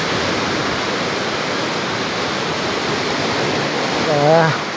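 Sea waves washing onto a long sandy beach near the Pacific Ocean in rough, low-pressure weather, a steady roaring wash of surf with a faint voice briefly audible near the end.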